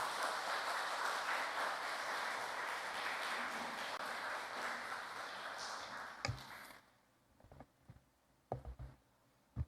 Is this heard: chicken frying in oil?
no